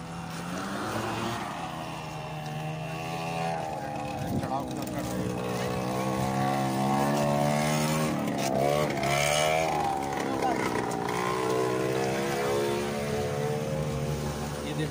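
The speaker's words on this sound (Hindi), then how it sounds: "ये देखो गाड़ी अपने आप जा रही है।" A vehicle engine drones steadily for the whole stretch as it rolls uphill on its own, a continuous hum with shifting pitch and a voice talking over it.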